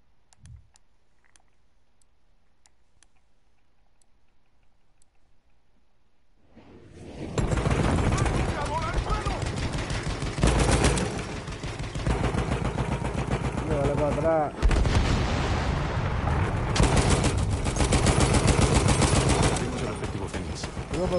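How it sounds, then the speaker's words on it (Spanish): Enemy machine gun fire in the video game Battlefield 1 breaks out after several seconds of near silence, a loud dense stream of rapid gunshots and battle noise, with a brief pause midway and voices talking over it. "Es una ametralladora del enemigo."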